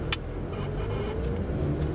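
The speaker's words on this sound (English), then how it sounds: "Hopefully the car pulls away at this roundabout" A budget auction car pulls away at a roundabout, heard from inside as a steady low engine drone that rises slightly, with road rumble and a brief high click at the start.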